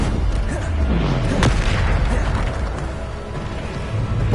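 A Bombarda spell blast in Hogwarts Legacy, one loud broadband boom near the start that rolls into a sustained rumbling roar of debris and game noise, close and heavy throughout.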